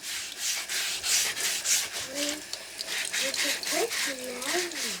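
Rough scraping as the rubber-side surface of a Berkey water filter element is scrubbed under water, steady repeated rubbing strokes close up, with a voice speaking faintly through part of it.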